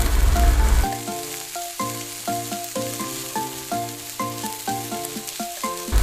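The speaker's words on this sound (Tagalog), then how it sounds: "Ilagay natin at haluin natin ang ating pangsahog." Meat and shrimp paste for Kapampangan pinakbet are stirred in a pot, a soft sizzle under a regular, repeating pattern of stirring strokes after a brief loud opening burst; no voices.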